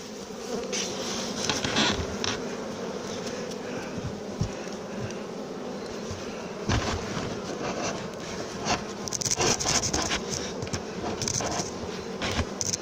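Honey bees drone steadily around a nuc hive box being prepared for winter with a full brood box and top entrance, a dense close buzz with brief louder swells as bees pass near, no voices.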